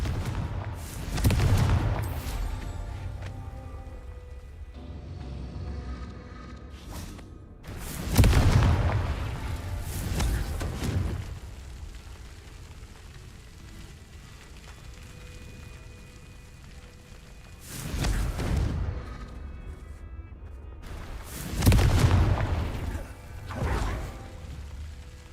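Confringo spell explosions from Hogwarts Legacy burst out four times at uneven gaps, each a loud whooshing boom with a deep rumble that fades into quiet game ambience between blasts.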